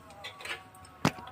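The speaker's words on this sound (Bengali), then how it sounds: "এবার আমি সরাসরি চলে আসছি গ্যাসে। গ্যাসটাকে জ্বেলে নেব।" A gas stove's igniter gives one sharp, close click near the end, after a few faint softer ticks in a quiet kitchen.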